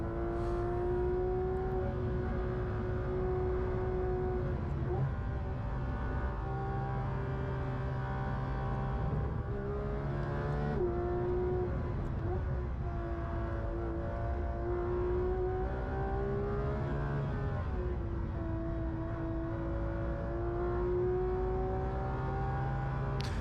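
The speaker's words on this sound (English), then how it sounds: "this Porsche that Misha is driving in this video is probably one of the fastest street legal cars" A Manthey Porsche GT3 RS lapping the Nordschleife, its engine note loud and steady inside the car, rising and falling through revs and gearshifts with a continuous whirring drone throughout.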